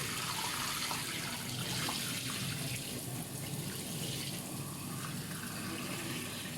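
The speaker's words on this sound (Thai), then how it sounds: "ล้างให้สะอาด" A red tilapia is rinsed under a running kitchen tap, the water gushing loud and steady from start to finish with no pauses.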